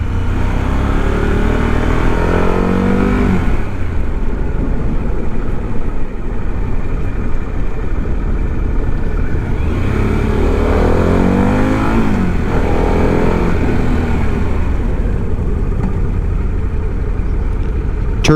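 A 2024 Harley-Davidson CVO engine rumbles loudly on the road, accelerating through gears in rising sweeps with continuous engine and wind noise.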